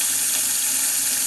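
Warm water runs steadily from a kitchen tap into a sink while dishes are rinsed, a loud close continuous hiss and splash with no voices.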